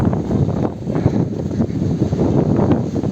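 Strong storm wind blusters across an organic worm-compost farm, roaring and buffeting the microphone in loud, uneven gusts with no one speaking.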